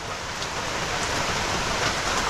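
Steady rain falls continuously, a dense even hiss of drops on surfaces with no voices.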